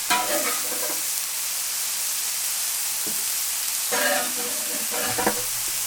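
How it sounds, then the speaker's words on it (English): Prawns sizzle on a Weber Q griddle, a loud close steady hiss of frying with a few short bursts of scraping and crackle as they are moved. "I'm turning the prawns."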